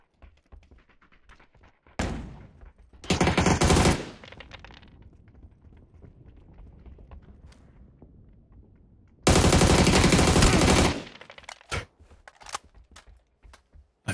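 AUG rifle fire in a battle royale shooter game: two loud sustained bursts of rapid automatic fire, one short and one longer, separated by quieter stretches with scattered clicks and distant shots.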